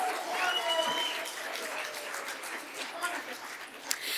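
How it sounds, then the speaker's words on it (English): Audience applause at a city State of the City event, a room full of clapping that swells and holds with scattered voices mixed in, plus a sharp single knock near the end. "Let's give them another round of applause."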